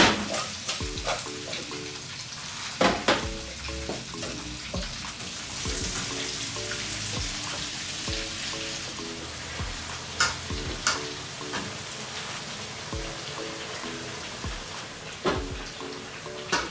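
Potatoes cooking with paprika and garlic powder in a pan for a seafood and potato dish, giving a continuous sizzle with occasional stirring clacks and scrapes, close and steady over many seconds, with no voices.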